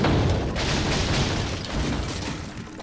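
A gunshot from the video game Resident Evil 4 booms as a heavy, muffled burst with a rumbling tail that lingers and fades over a few seconds.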